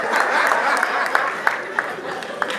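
An audience at the FIRHO event claps, a dense and fairly loud patter of many hands with a crowd murmur and voices mixed in.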